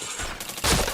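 Gunfire in the shooter game PointBlank, a short muffled burst followed by a louder bright crack at the end, with no talk.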